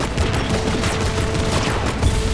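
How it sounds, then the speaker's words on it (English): A heavy metal machine gun in Destiny 2: Lightfall fires loud, dense rounds in a steady stream, mixed with booming impacts throughout. "heavy metal machine gun that fires according to its own rhythm, where it gets alternate effects every 4th bullet, and then every 16th bullet"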